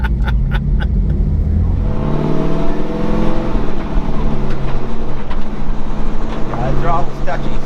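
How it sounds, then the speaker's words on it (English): A 1966 Chevy C10 pickup revs hard through a burnout, its engine roaring loud and close over a steady rumble before settling toward a lower drone, with people talking nearby. "Well, there's one burnout."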